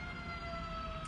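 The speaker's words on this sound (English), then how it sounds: "I'm sorry about the sirens," Emergency vehicle sirens wail faintly in the distance, a steady tonal drone over low background rumble, with no talking.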